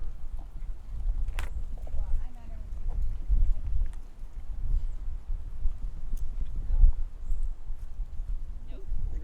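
Horse hooves clip-clop in an arena during an Arab class show, a steady soft rhythm of footfalls over low rumbling background with a few brief sharp knocks.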